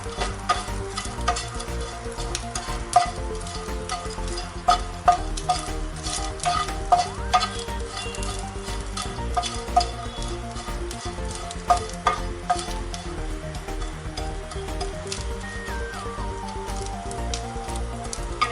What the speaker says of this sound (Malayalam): നമുക്കിത് കുറച്ചുകൂടെ നന്നായിട്ടൊന്ന് വറുത്ത് വെച്ചതുപോലെ ഫ്രൈ ആക്കി എടുക്കാം.